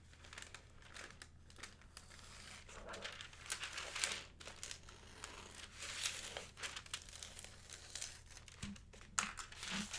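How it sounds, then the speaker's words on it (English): Close, continuous paper crinkling and rustling while cutting out small paper drawings for designer toy making, with scattered crisp snips and handling noises. "I'm just going to cut out my little drawings real quick"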